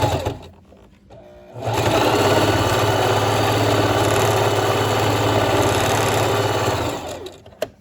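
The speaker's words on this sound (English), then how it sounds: "And you're gonna straight stitch." A sewing machine runs a straight stitch on a one-piece garment in one loud, steady hum lasting about six seconds, starting after some quiet handling and stopping cleanly, no voices.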